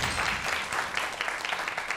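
Audience applause welcoming a math school principal onto a lecture stage, a steady wash of clapping from a crowd at moderate volume with no voices over it.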